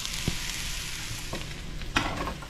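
Eggs frying in a pan make a continuous close sizzle, broken by a few sharp clicks and scrapes from stirring, with no voices.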